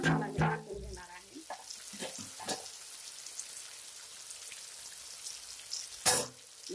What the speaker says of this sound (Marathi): तर हे पूर्ण मसाला मी टाकून घेणार आहे